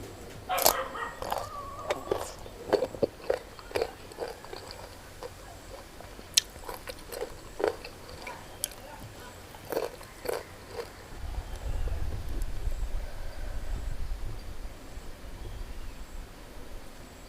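Close, crisp crunching and biting into sour green mango dipped in spicy fermented fish sauce (jaew pla ra), several sharp bites and chews in bursts with chewing between, then a lower rumble near the end.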